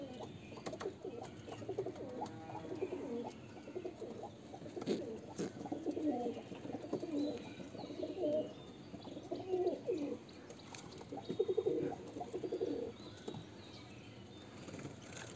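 Pigeons coo in soft, repeated low bursts from nearby, with faint chirps and an occasional wing flap in a hobby loft in Murshidabad, no talking.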